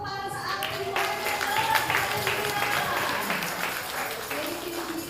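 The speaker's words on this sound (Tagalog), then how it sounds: "Sige, palakpak po para sa ating Lord." A church congregation at a Christmas celebration in London claps together, a dense, sustained wash of hands under crowd voices and some children's speech, steady throughout.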